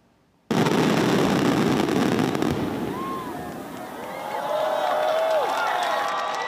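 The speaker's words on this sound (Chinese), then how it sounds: "超过27000发的高空烟火表演，伫民众的欢呼声内面结束" High-altitude fireworks over the fisherman's wharf at Dongshi, Chiayi, go off as a sudden roaring barrage of dense booms and crackles, with a crowd cheering and whistling faintly beneath as the show continues.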